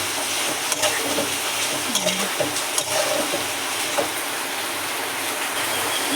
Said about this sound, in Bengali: এবার আমি ভালো করে নেড়ে ছেঁকে নেব